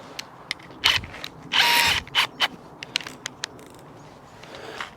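A Hilti combi drill set to single speed drives big screws, short bursts of whining motor and ratcheting clutch clicks in quick succession, close and loud, with brief pauses between pulls of the trigger.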